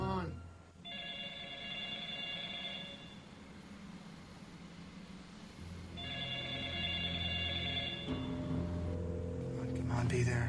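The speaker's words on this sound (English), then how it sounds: "Pick up the phone, Chuck, come on." An old-style telephone rings in two long trilling bursts with a pause between, over a steady rumble and a voice speaking.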